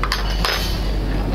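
Metal fork clinks against dishes during a business lunch at a cafe in Ulan-Ude, with two quick bright taps close by, then a fading ring.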